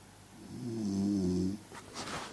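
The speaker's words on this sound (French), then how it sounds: "t'as lui là qui ronfle comme un porc" A man snores loudly in one long, droning rasp that swells and then stops, followed by a softer breathy rustle.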